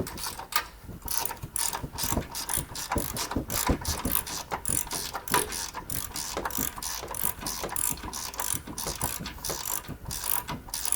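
A ratchet clicks in rapid, repeated bursts while tightening the suspension top cap bolts on a 2025 Toyota Tacoma, close and fairly quiet, with no talking.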